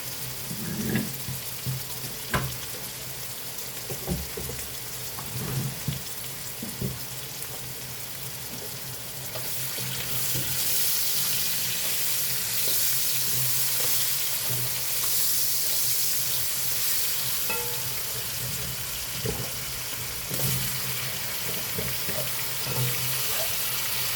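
Vegetables frying in a pan, including bell pepper and potatoes, give a steady broadband sizzle throughout, louder and denser in the second half, with faint scraping knocks from stirring and no talk.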